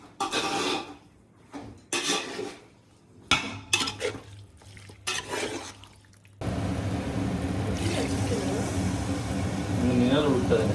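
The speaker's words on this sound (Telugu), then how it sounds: "నీళ్ళు ఉడుతుంది." Water heats in a pot while homemade biryani (kushka) cooks. Intermittent clinks and scrapes of utensils give way to a continuous loud bubbling, hissing boil for the last four seconds.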